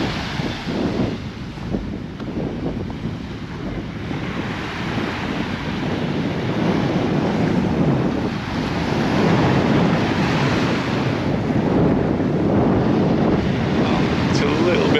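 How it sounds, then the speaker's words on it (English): Small sea waves wash continuously onto a beach in steady wind, a broad rushing surf noise with wind buffeting the microphone and no clear talk. "little waves rippling along"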